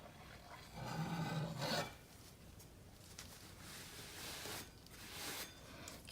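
A painter's putty tool swipes across wet acrylic paint in soft, scraping rubs, with a stronger longer drag early on followed by quieter strokes.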